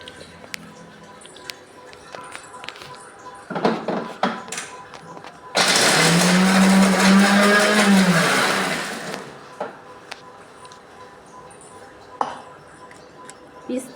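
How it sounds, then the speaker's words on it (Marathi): A kitchen mixer grinding nuts and other ingredients for homemade protein powder runs for about four seconds in a loud steady whir, with clinks of utensils and someone talking before and after. "आता मी हे सगळं बारीक करून घेणार आहे."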